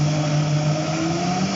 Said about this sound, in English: Bring it over to the blender. High-powered blenders are great.